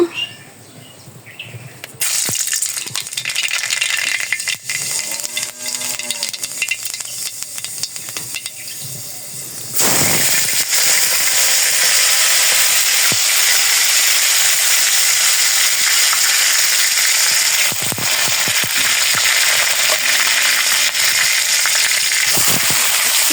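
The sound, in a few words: black cumin seeds sizzling in hot oil for tempering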